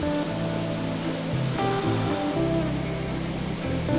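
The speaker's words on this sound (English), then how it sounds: "this is the amazing view of Gaganachukki Falls in Karnataka" Gaganachukki Falls on the Kaveri river in Karnataka gives off a steady, loud broadband roar of falling water, with a low droning hum running beneath it and no voices.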